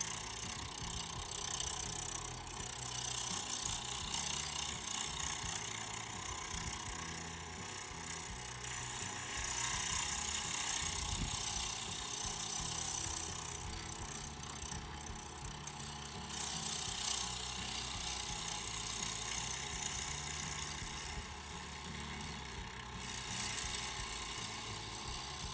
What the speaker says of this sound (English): we've got a little fluctuation in the way it's spinning